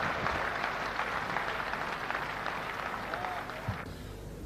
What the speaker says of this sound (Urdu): تالیوں سے استقبال کیجیے